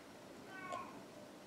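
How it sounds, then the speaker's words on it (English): A single short cat meow, faint and distant, heard over a low background hiss in a quiet room. "I don't know if you can hear the cat."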